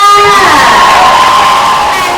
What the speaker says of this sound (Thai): ขอเสียงปรบมือดังๆกับลิงลิงคองค่ะ